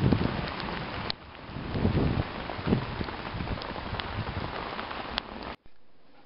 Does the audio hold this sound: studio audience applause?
no